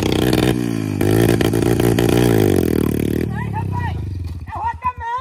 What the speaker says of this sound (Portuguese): Passando por dentro da água, isso é a moto.